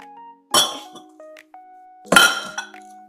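Glass clinking in a kitchen sink while a birthday cake is being made, two separate bursts of bright chinks and clatter, fairly close, with quiet pauses between them and no talk.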